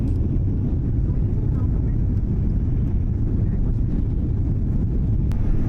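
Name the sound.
airplane taking off from Vancouver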